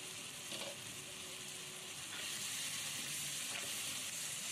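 Leaves being sautéed in a pan for a Tengra fish curry with new potatoes and beans, giving a continuous soft, even sizzle and hiss that grows slightly louder partway through, with no talking.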